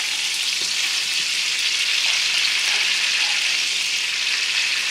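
Sirloin steak fries in a pan on low heat at the end of cooking, a steady, loud, close hiss and sizzle that holds unbroken throughout with no voices.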